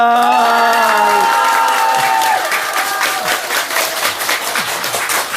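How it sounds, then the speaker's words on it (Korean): A crowd of worshippers claps hard and fast in a dense, loud burst, mixed with cheering voices and a few shouts, and a singing or chanting voice fades out at the start. "박수를 세게 쳐야 돼요"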